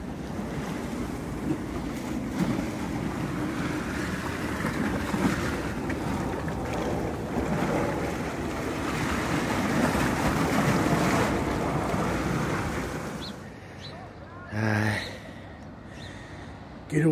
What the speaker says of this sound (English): Good old Newquay Harbour in the morning sun.